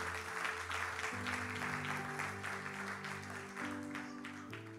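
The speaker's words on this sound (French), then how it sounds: "Acclame très très fort pour le Seigneur" A church congregation claps and cheers loudly for the Lord, dense sustained applause with shouts over steady organ or keyboard chords, the crowd close and energetic before tapering slightly.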